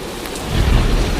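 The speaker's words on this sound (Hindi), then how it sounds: "हे भगवान, यह तो बहुत जोर की बारिश आ गई" A cartoon thunderstorm: heavy rain hisses continuously while a deep thunder rumble swells up halfway through and carries on to the end.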